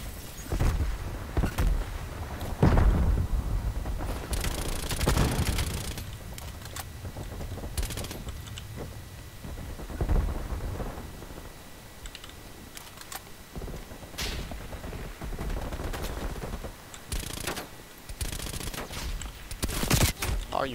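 OTS 9 submachine gun in Call of Duty Cold War firing in rapid bursts, fast rattling shots in short clusters across a busy match, moderately loud with occasional heavier impacts and brief pauses.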